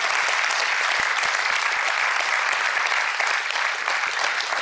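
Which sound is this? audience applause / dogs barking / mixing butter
audience applause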